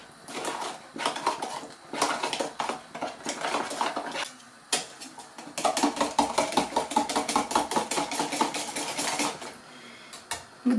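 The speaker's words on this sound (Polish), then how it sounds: "I będziemy to mieszać. Tak, żeby nie było grutek." Utensils clatter and scrape against a pot while a no-bake Karpatka cake mixture is stirred to keep it smooth, a busy run of close metallic knocks with short pauses and no voices.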